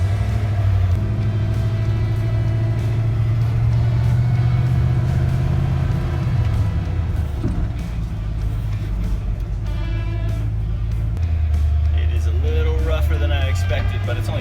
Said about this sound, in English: So here, test driving this old F-250 that was for sale.